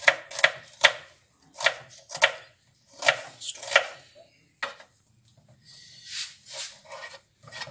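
Knife chopping onion into small pieces on a board, a run of quick, crisp close taps in short bursts with brief pauses, then softer, scattered cuts toward the end.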